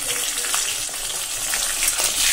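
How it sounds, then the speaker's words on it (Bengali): A fish head fries in a pan, giving a steady close sizzle with hissing spatter and faint stirring clicks throughout, no one speaking. "হ্যাঁ, মাথাটা ভালো করে ভাজা করতে হবে। তো ভেজে নিচ্ছি"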